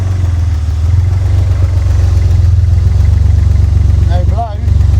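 A Porsche engine idles steadily with a fresh exhaust swap fitted, a deep low rumble that is loud and close throughout, with a brief dip near the end as a voice speaks over it.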